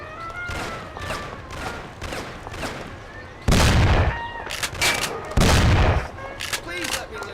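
Gunfire in a Mafia: The City of Lost Heaven shootout: scattered sharp shots, then two very loud heavy blasts, with shouting voices and other game sounds between them.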